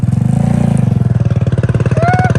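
A small motor runs steadily with a fast, even pulsing chug, close and loud, used to fly a kite on a windless day; pitch rises briefly near the end.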